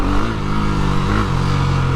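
KTM Duke 390 motorcycle engine revving hard during a wheelie, a loud, steady close-up drone with a low rumble and no talking.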